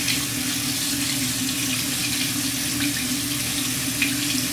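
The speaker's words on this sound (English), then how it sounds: "let the water run through the bristles and gently squeeze in a downward motion" Tap water runs steadily through the bristles of a makeup brush under a sink faucet, a continuous close splashing hiss with no talking.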